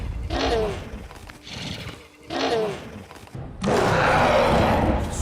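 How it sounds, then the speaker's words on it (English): Creature sound effects for alien animals such as a panther-like predator and a horse-like beast, recycled from Jurassic Park dinosaur sounds: three snorting, whinnying calls followed by a loud, harsh roar, close and dramatic. "the sound effects used for these otherworldly animals are recycled from another groundbreaking creature feature, Jurassic Park"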